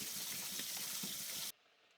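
Basil and parsley rinsed under a running tap, a steady broadband rush of water that cuts off abruptly near the end, with no voices.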